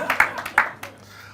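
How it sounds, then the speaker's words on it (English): Several sharp, close hand claps from an audience, irregular and sparse, fading quickly into quiet after about a second. "Round of applause for yourself,"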